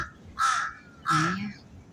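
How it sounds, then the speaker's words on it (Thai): A black crow caws twice in a city park, loud and close, each harsh call about half a second long with a brief pause between. "ตัวอีกาดำๆ เห็นไหมเพื่อนๆเห็นไหมคะมันร้องเสียงดังลั่น"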